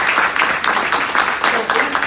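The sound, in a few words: audience applause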